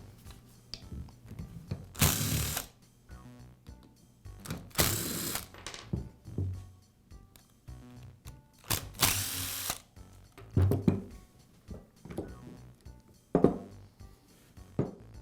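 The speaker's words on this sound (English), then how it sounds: "Now we'll remove the screws that secure the gearbox to the motor assembly." Screws securing the gearbox to the motor assembly of a DeWALT shear being removed with a ratchet, several loud, close bursts of clicking and whirring separated by quieter handling noises, with no talking.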